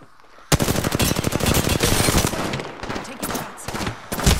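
Rapid automatic gunfire erupts in an Apex Legends match, a dense, loud rattle of shots in sustained bursts with brief gaps, after a quiet opening.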